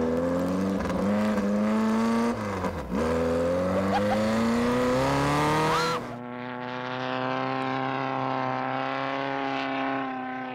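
Sand rail dune buggy powering across the Sand Mountain dunes, its engine loud and close with a strong harmonic drone that shifts pitch as it revs, dips and climbs steadily.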